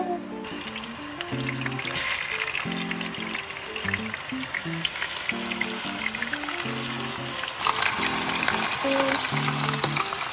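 Fish frying in a pan at a campsite makes a continuous crackling sizzle, with a few louder bursts partway through and faint background tones beneath.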